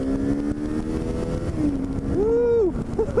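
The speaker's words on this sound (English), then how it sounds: "That's such a great engine, honestly." A Kawasaki Eliminator 450 motorcycle engine revs and accelerates close to the microphone, pitch climbing and falling through gear changes under wind noise, with a brief voice near the end.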